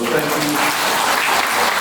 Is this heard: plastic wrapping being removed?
no